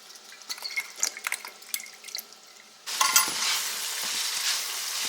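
Ground beef browning in a pan gives a soft crackle and faint sizzle at first, then a louder, steady hiss of frying takes over, close up with no voices.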